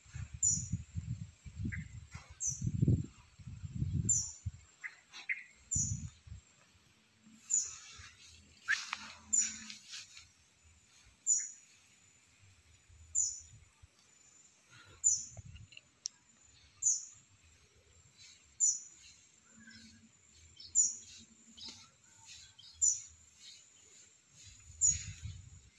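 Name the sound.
baby bird chirping, calling its mother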